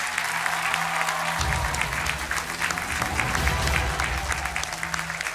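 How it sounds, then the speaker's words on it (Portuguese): Studio audience applauding on a television game show, a steady wash of clapping that swells and holds for several seconds, with a voice briefly heard beneath it. "Um aplauso para o José Ferreira"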